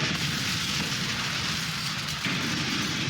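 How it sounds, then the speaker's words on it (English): A structural explosion sound effect from a game sound set plays as a dense, loud, sustained roaring rumble with crackling debris texture, a brief dip partway through, then continuing at full strength, with no voices. "I want to find the right structural explosions."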